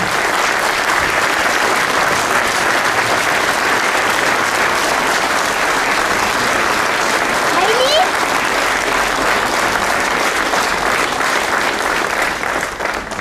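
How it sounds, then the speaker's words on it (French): A large outdoor crowd applauds at a village memorial tribute to terror attack victims, a loud, dense, unbroken wash of clapping that holds steady for over ten seconds, with a brief whistle or cry partway through. "applaudir ces personnes qui sont mortes car elles le méritent"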